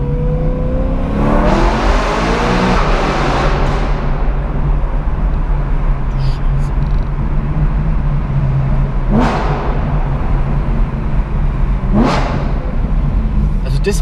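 A BMW M3 engine revs loudly and roars close by, rising and falling in pitch, with a few more sharp revs later over constant rumble.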